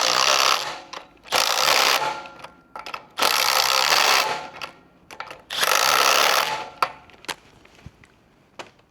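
Bolts on the wheel of a One Breeze Pro adult electric tricycle being tightened, heard as several loud bursts of mechanical whirring from a power tool, each a second or so long, separated by brief clicks and pauses.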